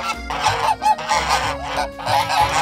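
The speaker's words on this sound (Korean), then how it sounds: "거위야? 거위인데 뭔가 할 말이 많나 봐." A goose honks repeatedly and loudly up close, giving a run of nasal, rasping calls with brief breaks between bursts.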